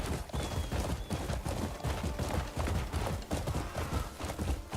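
Horse hooves galloping in the video game Crimson Desert, a steady rapid thudding rhythm that runs through the whole stretch at a close, even loudness with no voices over it.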